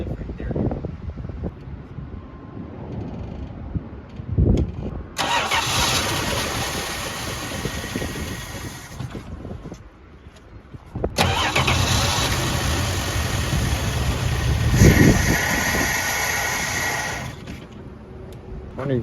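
A 1968 Dodge Dart engine cranks, catches and runs at close range, a loud sustained roar that drops away briefly and then surges again for several seconds, with a fan-like whir and faint mechanical rattle throughout.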